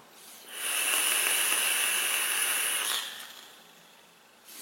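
Steady, fairly loud vapour hiss from an e-cigarette dripper atomizer with a dirty coil, lasting about two seconds before fading off, with no talking.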